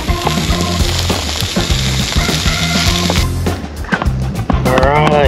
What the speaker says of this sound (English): I threw the steak on. Got my fire grill inside the fire pit.